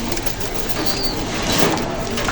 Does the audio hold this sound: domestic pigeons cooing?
yes